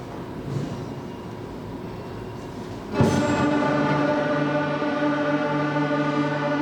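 A beginning school band at a fall concert, a rough ensemble note that swells in abruptly after a brief murmur and then holds as a sustained chord of many instruments.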